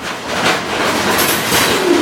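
A moving freight train rolls loud and close with a continuous rumble and a clickety-clack of wheels, heard from aboard a car in a rail yard by a fuel pad. A faint wheel squeal comes near the end.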